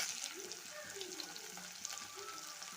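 Ripe tomatoes tipped into softened onions frying in a pan for dried-fish thokku, a faint steady sizzle with soft stirring; no one speaks.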